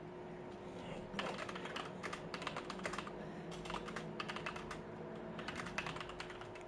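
Rapid bursts of keystrokes on a computer keyboard, clicking in uneven clusters with short pauses between them, fairly close and steady over a low background hum.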